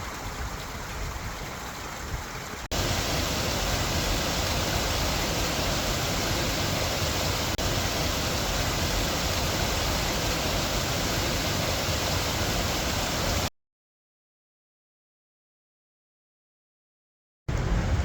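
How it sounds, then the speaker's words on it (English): Continuous rushing of water from a small waterfall at Smiths Stream, steady and broadband, broken by a sudden stretch of silence near the end. "Cool little waterfall."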